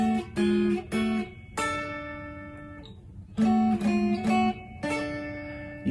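Electric guitar playing two-note sixth intervals, a series of clean plucked double-stops ringing out alone with short gaps between phrases.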